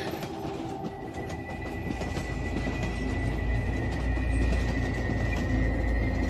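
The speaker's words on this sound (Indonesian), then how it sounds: "Seakan tertutup suara mesin kereta." A train runs along at a steady pace, a continuous low rumble with faint rhythmic clickety-clack of wheels on rail joints, growing slightly louder toward the end, with no voices.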